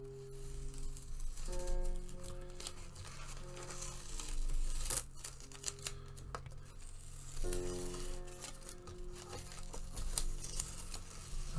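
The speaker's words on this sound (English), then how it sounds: "if we just peel away our masking tape" Masking tape peeled slowly off paper in a drawing session, giving soft tearing and crackling strips under faint background tones.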